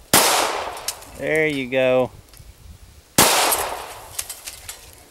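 Guns fired at targets outdoors, two loud sharp reports with ringing tails roughly three seconds apart, a short whistling tone between them and someone speaking briefly.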